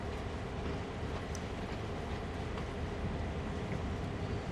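A train in Train Sim World 3, a nearly empty freight running on the Oakville line, rolls and brakes with a steady broadband rumble and faint rail clatter, a few brief squeaks over the dense low noise.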